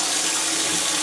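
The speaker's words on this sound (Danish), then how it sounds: "Jeg vil lige skylle panden af her." A frying pan is rinsed under a running kitchen tap, a loud, continuous rush of water hitting metal that fills the whole brief moment without any speech.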